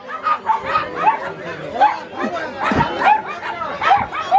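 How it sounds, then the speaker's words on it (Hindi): Several dogs bark, yip and snarl in a scuffle at the crowded Sonpur Mela dog market, repeated sharp barks and whimpers mixed with background crowd chatter and voices. "सब कुत्ता झगड़ा कर रहा है।"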